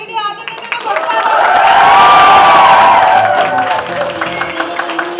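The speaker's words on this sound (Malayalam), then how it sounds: "നമുക്ക് നമ്മുടെ ആസികയ്ക്ക് ഒരു വലിയ കൈയടി ആദ്യം തന്നെ കൊടുത്താലോ?" Loud crowd cheering and applause for actor Asif Ali at a large Malayalam public event, swelling to a roaring peak midway and then tapering off, with shouts and whoops mixed into the din.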